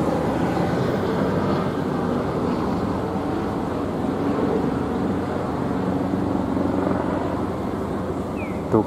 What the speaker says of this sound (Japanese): ドクターヘリが飛んでいましたね。